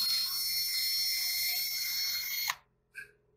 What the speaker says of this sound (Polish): Ja mam takie fajne sztoteczki na wiertarkę. Jadę sobie tym.